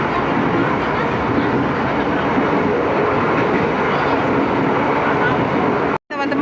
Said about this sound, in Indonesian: Wow, keretanya melaju dengan cepat.